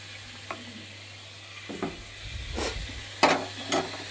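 Green chilli paste hitting mushrooms in a hot pan gives a quiet, low sizzle, broken by a few soft scrapes and stirring taps that grow slightly louder toward the end.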